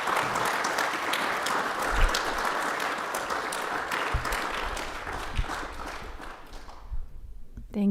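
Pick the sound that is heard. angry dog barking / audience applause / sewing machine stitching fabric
audience applause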